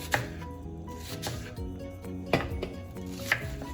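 A knife chops an onion into little squares on a board: a few sharp, isolated chops spaced about a second apart over a steady tonal background hum.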